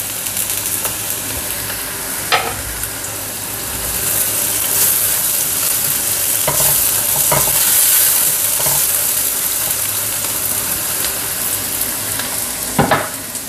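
Tomato pieces frying in a pan, a loud, continuous crackling sizzle that swells in the middle, with a few sharp clicks of a spoon against the pan and no talking.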